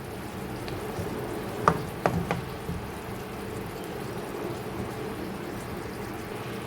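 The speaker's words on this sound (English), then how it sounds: "abhi I'm going to put half teaspoon of ginger garlic paste. Stir it." Ginger garlic paste frying in a pan for aloo matar pulao, a soft steady sizzle with a few sharp utensil taps as it is stirred, close and alone.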